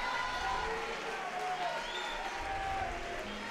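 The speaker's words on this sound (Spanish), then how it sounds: "Aplauso generalizado para ambos peleadores." Arena crowd at an MMA event applauding and cheering after a fight, a dense wash of clapping with scattered shouts and commentator voices mixed faintly underneath.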